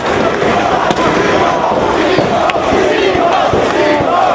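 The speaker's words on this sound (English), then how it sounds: "And you hear the name the crowd is calling." A wrestling crowd chants for Ricky Steamboat, a dense, loud roar of many voices that fills the arena without a break, with occasional sharp bangs cutting through.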